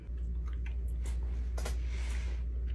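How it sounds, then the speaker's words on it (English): Several people chew gum in a quiet room, soft moist smacking and clicking bursts scattered over a low steady hum, with no talking. "Do you not see everyone else chewing?"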